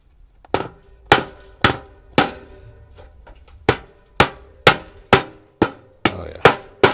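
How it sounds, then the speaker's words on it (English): A sledgehammer pounds a crunchy latch with about a dozen sharp, ringing blows. The strikes are loud and close, with uneven gaps early on and then a steadier rhythm, each ending in a short metallic decay. "This one's a little bit crunchy, so we're gonna fix that with a sledgehammer."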